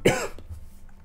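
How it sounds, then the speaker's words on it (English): A single harsh cough from a person with a cold, close and sharp at the start, trailing into faint breathy residue and quiet room noise. "So sorry about the coughing."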